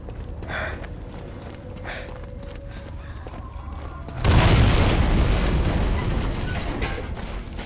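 A game explosion destroying an enemy gun in Sniper Elite 4 erupts as a loud, sudden boom after a quieter stretch of game ambience with faint clopping and mechanical sounds, then decays into a long rumbling tail.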